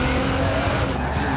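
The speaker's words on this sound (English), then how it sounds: "Bit of speed, turn in, feather the e-brake as you hold the accelerator." In Forza Horizon 4 a car drifts with the e-brake feathered and the accelerator held, loud tire squeal and skidding over engine roar, continuous and dense for a moment.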